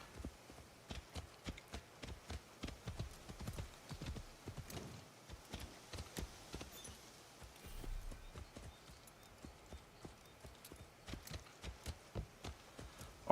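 Horse hooves in Assassin's Creed Shadows clip-clop in a quick, steady rhythm, continuing as a string of sharp, fairly faint hoofbeats with no talking.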